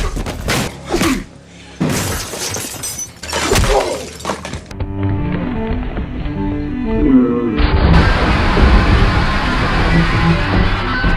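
Furniture and shelves smash during a Blade (1998) fight scene, with a series of loud crashes, breaking and thuds in the first few seconds, followed by a dense, sustained clatter and film score mix.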